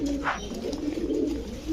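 Low, soft cooing of a cream-eyed pigeon at a pigeon sale, repeating steadily at close range, with a faint background hum.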